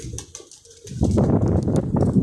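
Pet pigeons coo softly at first, then a fuller, denser run of low, throaty cooing swells up close and continues steadily, with no speech.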